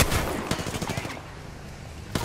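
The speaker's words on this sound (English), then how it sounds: "The enemies are shooting at me." Rapid bursts of enemy gunfire in an Apex Legends match, several quick shots clustered in the first second, then a quieter stretch and one more sharp shot near the end.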